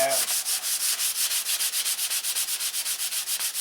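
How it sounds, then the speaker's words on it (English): Steady back-and-forth sanding strokes with 400-grit sandpaper on wooden wing sheeting, a rhythmic scratchy rasp repeating about seven times a second, close and even, with no voices. "I'm taking some 400 sandpaper and just sanding off any of the 80 grit sand marks"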